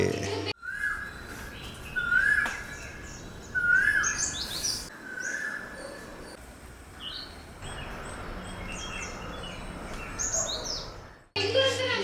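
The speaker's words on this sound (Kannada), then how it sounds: "ಬೆಳಿಗ್ಗೆ ನೀವು ಎದ್ದು ನೋಡಿದ್ರೆ ಬರೀ ಹಕ್ಕಿಗಳ ಸೌಂಡ್ಗಳು ಸೂಪರಾಗಿ" Birds chirp and sing in the morning, with several clear whistled calls and twittering phrases standing out near and loud over a noisy background.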